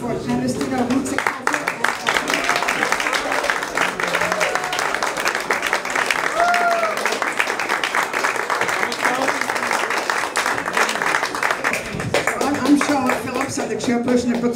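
Audience applause fills a Brooklyn for Peace evening event after a live band performance, a steady dense clapping that runs most of the stretch, with crowd noise and cheering mixed in and a voice briefly cutting through near the end.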